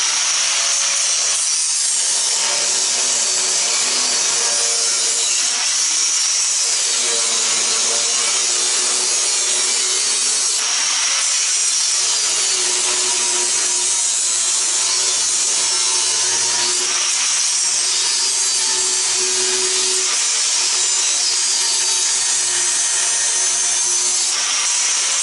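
A sealed refrigeration compressor unit, partly copper or aluminium inside, is cut open with a saw, giving a steady rasping, grinding metal-cutting noise that runs throughout at close range with no talk.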